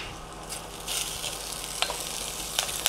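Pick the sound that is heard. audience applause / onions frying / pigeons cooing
onions frying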